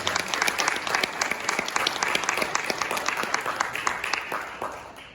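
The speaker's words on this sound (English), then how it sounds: "Let's go ahead and give one more round of applause for these panelists." An audience at a panel discussion applauds the panelists, many hands clapping in a steady, lively patter that stays full and fairly loud, fading slightly near the end, with faint crowd murmur underneath.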